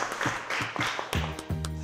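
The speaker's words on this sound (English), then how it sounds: "So give a round of applause for Malcolm X." A round of applause for Malcolm X from a high school class in 1987, dense clapping that runs the full length, with a voice briefly heard within it.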